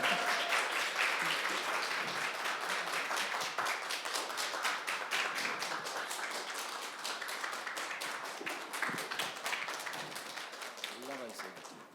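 Audience applause greets an author at a youth culture festival, a lively crowd of individual claps with distinct sharp hits, tapering gradually, with voices faintly mixed in.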